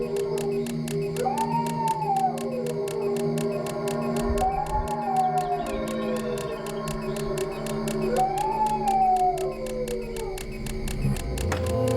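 Voices imitating a dog howling at night, heard as three rising-and-falling wails repeated a few seconds apart over a steady background drone.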